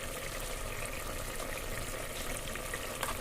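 Chicken curry simmering in a pressure cooker as its liquid cooks off, a quiet continuous sizzle and bubbling hiss, steady and faint with no voices.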